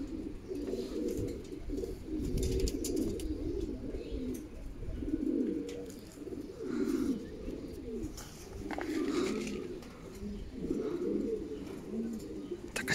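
Racing pigeons coo in low, rolling pulses at the finish of a 290 km race, steady and fairly close, with a faint background murmur.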